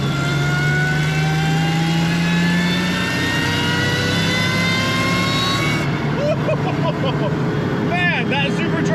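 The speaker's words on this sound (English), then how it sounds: "Man, that supercharger whine is freaking intoxicating." A Toyota MR2 with a supercharged V6 pulls hard, its loud engine note and high supercharger whine climbing steadily in pitch before easing off.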